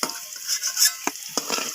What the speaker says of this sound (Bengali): তো এই আলুগুলোকেও আমি একইভাবে ভেজে নেব